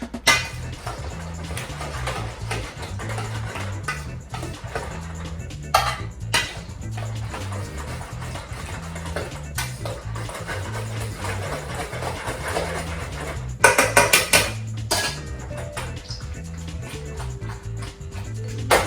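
Bacon and pasta for carbonara tossed in a pan, giving a steady run of metallic clinks and scraping clatter with a low repeating rumble, close and moderately loud, with a louder burst near the end.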